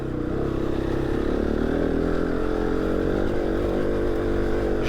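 Close-up engine drone from a motorcycle riding off-road along a forest single track, holding a steady, loud note with slight shifts in pitch as it rides and faint mechanical clatter, no talking.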